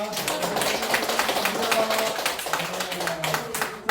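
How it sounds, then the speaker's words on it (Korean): Dense, steady applause from a crowd at a church service, a continuous patter of many hands clapping at fairly even loudness throughout. "크게 박수 한번 부탁합니다."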